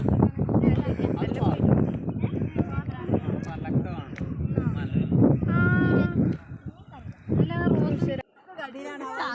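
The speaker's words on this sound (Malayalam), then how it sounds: "ഇവിടെ ആട്ടിൻകൂട്ടങ്ങളൊക്കെ ഉണ്ട്." A flock of sheep or goats bleats at a picnic spot near a waterfall, the calls mixed into steady chatter and talk from nearby people.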